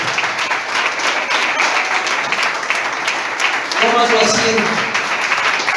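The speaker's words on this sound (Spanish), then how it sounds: "Den un aplauso al Señor y toma asiento en esta tarde" A church congregation claps in sustained, lively applause while a preacher's voice speaks over it, the clapping steady and dense throughout.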